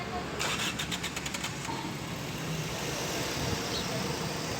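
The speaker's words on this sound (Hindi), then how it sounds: "आप देख सकते हैं गाड़ी पहले सेल्फ पे स्टार्ट हो गई है।" A Toyota Corolla fitted with a 1.3L 2NZ-FE engine starts on the starter motor: a quick burst of rhythmic cranking pulses, then the engine catches and settles into a steady, even idle.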